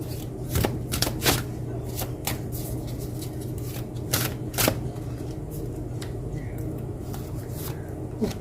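Tarot cards being shuffled by hand, several crisp riffling bursts and soft slides against a low steady hum, close up, with a few brief pauses and no talking.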